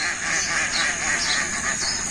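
A flock of farm ducks released onto an open wetland keeps up a dense, continuous chorus of overlapping quacks at moderate distance.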